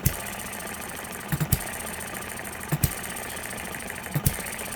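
An Eachine ET6 model engine runs at idle with a steady hum, punctuated by a few sharp irregular knocks or misfires, with no voices present.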